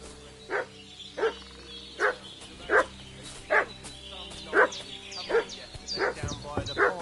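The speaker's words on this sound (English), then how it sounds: "What's that dog making such a fuss about?" A dog barks in the video game Kingdom Come, a steady series of about ten sharp barks spaced under a second apart, moderately distant over quiet outdoor ambience.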